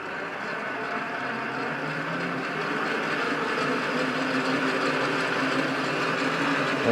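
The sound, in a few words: mini metal lathe running with wire brush cleaning gear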